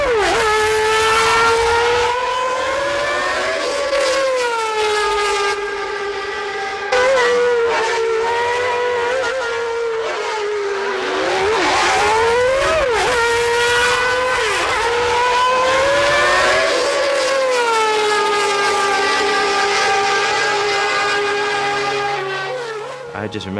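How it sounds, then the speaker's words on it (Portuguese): Ayrton Senna's McLaren Formula 1 car engine runs on a racetrack, a loud, close, high-pitched scream that rises and falls continuously through revs and gear changes. "O carro de Senna foi para a pista e nós gravamos o som do motor."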